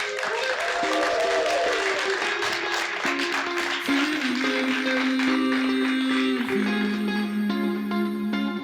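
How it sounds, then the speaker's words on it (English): An audience claps at a film premiere screening and Q&A with cast and crew, with broad, steady clapping and sustained musical tones swelling beneath it as the applause continues. "Another round of applause."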